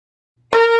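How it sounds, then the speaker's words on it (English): A shofar made from gemsbok horn is blown, opening with an abrupt, loud, brassy blast that sustains as a steady, bright tone on its own. "this shofar comes from an animal called a gemsbok."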